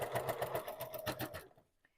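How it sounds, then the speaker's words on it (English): A sewing machine quilting through bulky layers runs in a fast, steady mechanical rhythm of stitching, then stops abruptly and falls quiet. "I don't have trouble very often with my sewing machine hitting the pins."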